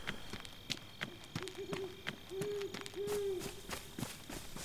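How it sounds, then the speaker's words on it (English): An owl hoots in the DayZ survival game, giving a few soft, low calls in a row over a backdrop of steady clicking and ambient noise. "Oh, great owl sounds."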